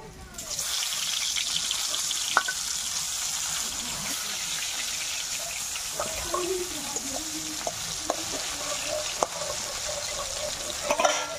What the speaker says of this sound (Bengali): বাদ বাকি মাছগুলো আমি ভেজে নেব।